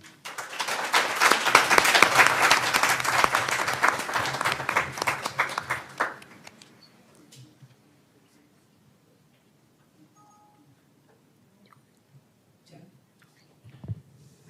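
Warm audience applause greets the writers at an international writing program panel, dense clapping for about six seconds that then fades into quiet room tone with a few faint shuffles.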